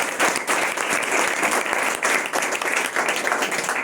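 An audience at an Independence Day speech event claps enthusiastically, a loud, close burst of many hands with slightly uneven pulses that continues throughout without talk.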